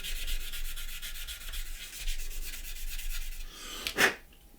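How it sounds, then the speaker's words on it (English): Power sander smoothing a small profile of cured CA glue, a steady buzzing rasp with fluctuating grit texture, close up, ending in a brief sharp burst before fading, no voices. "we'll just sand that little profile out, just like that, in with our sander"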